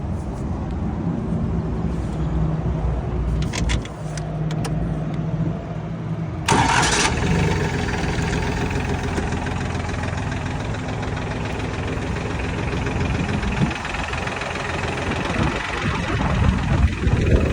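The engine of a joystick-controlled bucket machine rated for 250 kilograms cranks after a few quiet clicks, catches abruptly, then settles into a loud, steady close-up idle that runs on with slight fluctuations.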